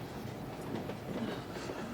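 A passenger train rolls steadily along the rails with a continuous low rumble and faint clatter, close and even throughout, with no voices.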